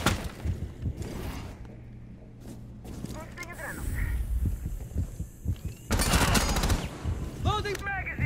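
Rapid bursts of gunfire in Rainbow Six Siege hostage mode come in short clusters with sharp impacts, loudest near the end, mixed with game effects and voices talking.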